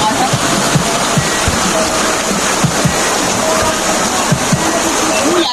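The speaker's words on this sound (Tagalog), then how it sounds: "pakinggan ang tunog ng ilog" A river at a cheap swimming and eating spot in the Philippines flows with a constant broadband rush and splashing, steady and close, and scattered low knocks and voices sit faintly underneath.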